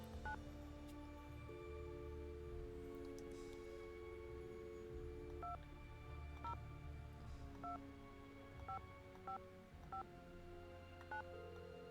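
Telephone keypad tones in a Nancy Drew mystery game, a series of short dual-pitch beeps pressed one at a time at uneven intervals over a low steady hum, fairly quiet and without talk.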